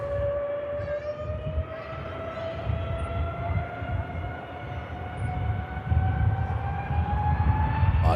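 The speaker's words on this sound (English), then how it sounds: "Oh, nice long spool up." An ATR turboprop spooling up at Manchester Airport, its rising whine climbing slowly and steadily over a broad rumble, moderately distant and sustained without voices.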